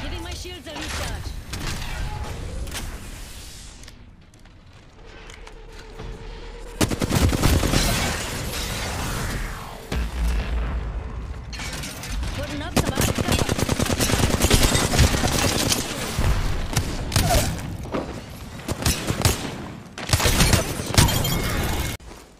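Gunfire in the Apex Legends video game, rapid automatic bursts and single shots cracking near and loud in repeated volleys, mixed with shattering and mechanical clatter, with a voice talking over parts of the action.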